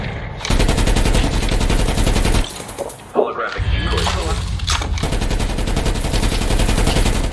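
Rapid, loud gunfire from a Rytec AMR sniper rifle in the Call of Duty Mobile video game, a dense barrage of shots that briefly drops out mid-clip and then resumes, with excited voices talking over it.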